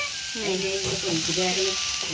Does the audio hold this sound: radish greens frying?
yes